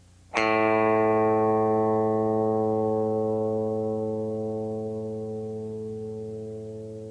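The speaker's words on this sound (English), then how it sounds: "give you a tune-up note without distortion and without chorus. This will be in A, 440." A clean electric guitar sounds a single sustained A 440 tuning note with no distortion or chorus, struck once and ringing loud and steady before slowly fading, with no other sounds.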